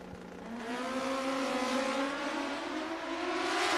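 Kawasaki ZX14 drag racing motorcycle launching at a sportsman drag strip, its engine screaming and rising steadily in pitch through the gears, loud and close with no talk.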